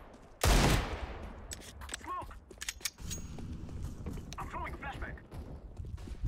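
Gunfire in CS:GO: a sharp loud shot near the start, then scattered rapid shots and mechanical clicks under players chatting.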